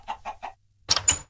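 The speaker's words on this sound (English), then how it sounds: "Sounds like the chickens are still here." Chickens in a video game give three quick, evenly spaced clucks, then after a short pause two harsher, louder squawks, close by with no talking.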